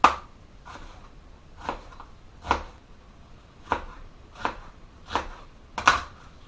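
A knife chops a red onion on a cutting board for French onion soup, about eight crisp, separate thuds at an unhurried, slightly uneven pace, close and clear.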